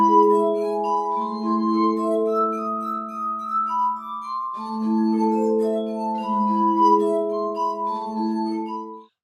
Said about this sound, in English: by rubbing our finger along the edge of the wine glass.